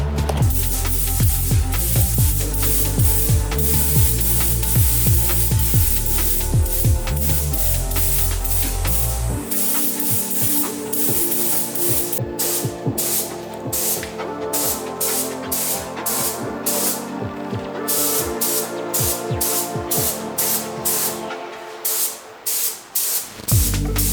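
A spray gun lays a pearl paint coat over a car's engine bay, a sustained hiss broken into short bursts as the trigger is pulled and released, close and fairly loud with no talking.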